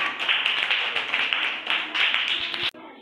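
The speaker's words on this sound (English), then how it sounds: "Clap for third group." Students in a multigrade classroom clap for a group, quick dense claps sustained for almost three seconds before stopping abruptly.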